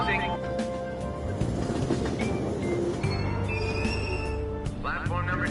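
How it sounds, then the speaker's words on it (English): Train doors sliding shut and a train pulling away in a PS4 video game, with wheel rumble and rolling clatter throughout, chime-like tones, and a busy station ambience behind it. "Train doors are now closing."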